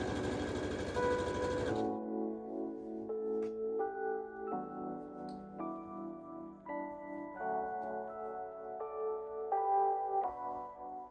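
A sewing machine stitches a seam on a tote bag, running in steady, loud whirring bursts with a rapid mechanical chatter. The motor pitch shifts between stretches, and no one speaks.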